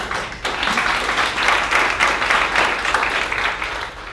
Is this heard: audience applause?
yes